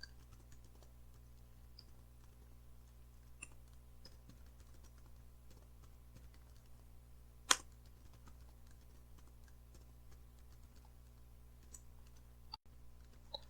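Quiet, steady keyboard typing while PHP code is being written, a soft run of light key clicks with one sharper tap standing out partway through, heard at close range with no voices present.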